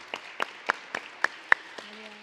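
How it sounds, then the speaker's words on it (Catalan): Scattered hand claps from a small audience at a televised school spelling contest, about eight sharp, evenly spaced claps over two seconds, fairly faint, ending with a low steady hum. "Un fort aplaudiment."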